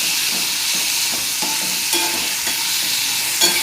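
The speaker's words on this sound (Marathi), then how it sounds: "चांगलं परतून घेऊ त्यांना" Green chilies sautéing in a hot pan for a spicy ridge gourd and chili dish, a loud continuous sizzle and crackle with occasional stirring scrapes, close by and without talk.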